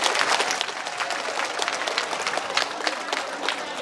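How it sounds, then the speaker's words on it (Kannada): Dense, steady applause from an audience at a live stage event, a close wash of many hands clapping together for the whole stretch with no break. "ಒಂದು ಚಪ್ಪಾಳೆ ತಟ್ಟಿ."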